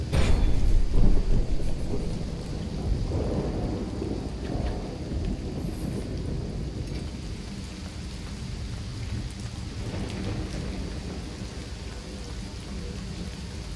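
Steady heavy rain with deep rolling thunder from a stormy setting in the video game Risen 2: Dark Waters, the thunder loudest near the start, then a continuous downpour.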